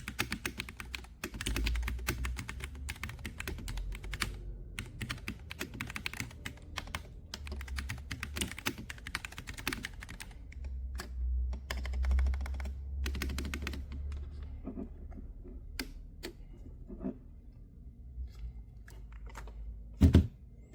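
Rapid, continuous typing on a wired MonsGeek FUN60 Pro SP keyboard with magnetic Hall-effect switches and rapid trigger, its dense clacks up close with a few heavier thuds near the end.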